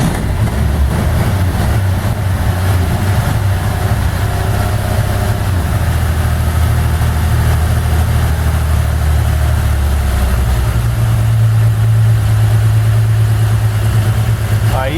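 A classic Chevrolet Styleline car engine, fitted with its original start button, turns over and settles into a low, steady idle that runs throughout, with a slight rise in tone near the end and voices talking over it.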